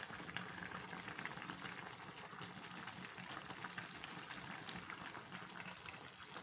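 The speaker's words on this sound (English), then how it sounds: "cover our soup and let it boil. So it's boiling." A pot of bitter leaf soup boils steadily, a continuous low bubbling and hissing simmer, faint and unbroken, with no voices over it.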